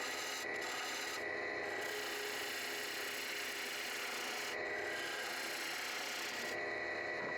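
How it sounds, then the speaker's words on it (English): A bowl gouge takes a light cleanup pass on a wooden flower pot spinning on a lathe, making a continuous, fairly faint rubbing hiss that drops out briefly a few times. "This time I'm using a sturdier bowl gouge."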